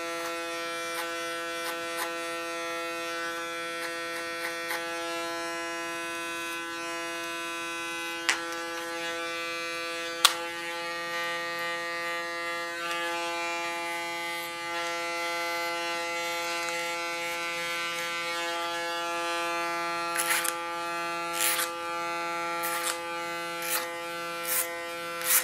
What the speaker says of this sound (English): And so far the clipper cutting.